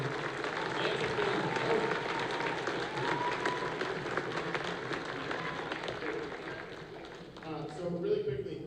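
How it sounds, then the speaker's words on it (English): Sustained applause and clapping from a school band concert audience fills the room, steady and dense with a slight swell near the end. "Let's give them a round of applause for Figures and Technology."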